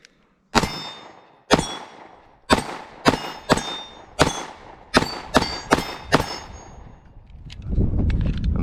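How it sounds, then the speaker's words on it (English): Ten rounds from a Beretta PX4 Storm Compact pistol ring out at a steady, fairly quick pace, each shot followed by a sharp metallic clang of a steel plate being hit, loud and close, then a low rumble of handling noise. "let's shoot some steel and see if we can squeeze off 10 rounds pretty quickly on these steel plates"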